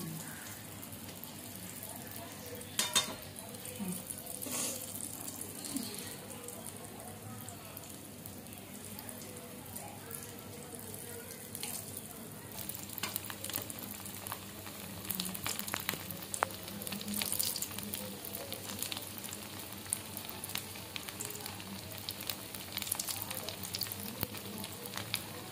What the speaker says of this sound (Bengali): আমি আস্তে আস্তে করে উল্টিয়ে উল্টিয়ে আমি ভাজবো